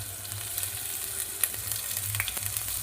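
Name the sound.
chopped garlic and ginger frying in oil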